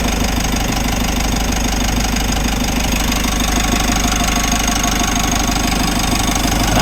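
A steady engine-driven mechanical drone with a rough, knocking undertone from a faulty air conditioning compressor on a Mitsubishi L300 Euro4, loud and close, running continuously without pause.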